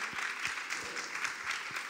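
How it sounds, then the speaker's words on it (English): Audience applause at an urban policy forum: a dense, steady wash of many hands clapping at moderate volume, sustained without a break through the whole moment, with no voices over it. "I think that deserves applause."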